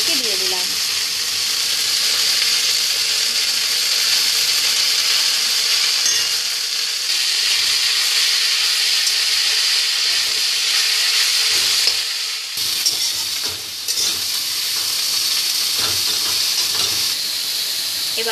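Washed greens for beto shak bhaja hit hot oil in a pan with a steady, loud, continuous sizzle and hiss, close up, with brief stirring clatter and faint talk under it.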